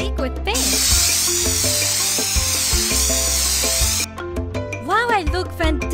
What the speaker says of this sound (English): Now spray my beak with pink.